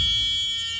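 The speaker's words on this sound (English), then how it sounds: "we're also checking to make sure the alarm buzzer comes on." A school bus emergency door alarm buzzer sounds as a steady, high-pitched electronic tone with a low hum underneath, close and continuous through a brief moment.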